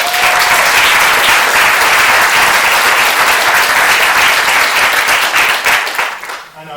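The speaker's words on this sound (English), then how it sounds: "Please give them all a big round of applause." Loud, dense applause from a full audience at a storytelling show in a Beaverton library, a sustained roar of clapping that holds steady for several seconds before tapering off at the end.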